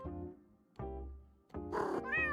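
A cat in the video game JudgeSim meows three times in close succession, each cry drawn out and fairly loud, the last one rising and more strained. No talking is heard.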